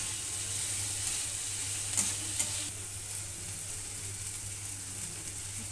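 Vegetables roast in a pan for vermicelli upma, giving a steady, even sizzle close at hand, with a couple of brief stirring scrapes early on and no voices.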